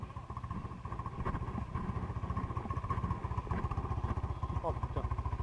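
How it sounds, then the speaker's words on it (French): Kymco KXR quad bike engine running steadily with a rapid, even thudding pulse, fairly close and continuous throughout. "Ça c'est du quad."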